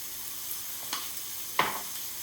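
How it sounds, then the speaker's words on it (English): Chicken pieces for chicken cacciatore roast in a hot pan, giving a soft steady sizzle with a couple of brief crackling pops. "we're just going to roast those till we start developing a little bit of colour"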